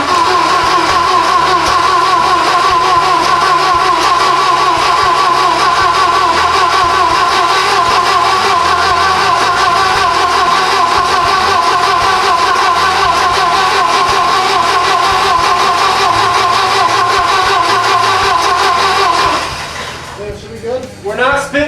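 A Volvo 240 Turbo engine, just fitted with a new fuel rail and a manual swap, runs at a steady, loud idle with a constant hum for about twenty seconds, then cuts out abruptly near the end.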